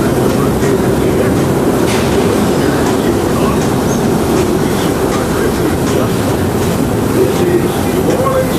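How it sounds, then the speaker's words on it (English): A Disneyland Railroad steam train rumbles steadily with rolling wheel noise and faint clacks as it slows toward a station stop, loud and continuous from on board. "please remain seated until the train comes to a complete stop"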